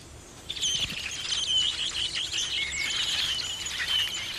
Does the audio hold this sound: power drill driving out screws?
no